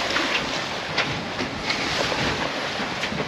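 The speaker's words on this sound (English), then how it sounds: "we are sailing." A sailboat moves across open sea while tacking, a broad steady rush of water and wind along the hull with faint splashes and no voices.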